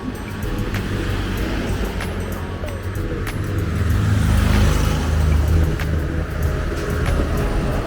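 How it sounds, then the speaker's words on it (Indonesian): Road traffic passes near a Point Coffee site on the edge of a small town, a steady wash of car and motor noise swelling louder midway as a vehicle goes by close, with scattered clicks and no talk. "Lalu lintas di sekitarnya."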